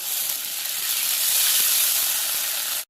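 Water from a ground mustard-and-poppy-seed paste hits a hot pan with fried pointed gourd, giving a loud, steady, close sizzling hiss that holds for a few seconds and then cuts off.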